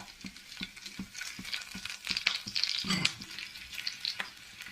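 Chopped green chillies frying in a pan for chilli paneer: a steady close sizzle with crackling spits and a few stirring scrapes, no talking.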